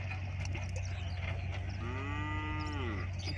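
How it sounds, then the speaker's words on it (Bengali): A cow lows once with a single drawn-out moo on open riverside grazing land in rural Bengal during net fishing. It sits at moderate distance over a steady low background hum. "এখানে গরু আছে, আবার এখানে গরু ডাকতেছে।"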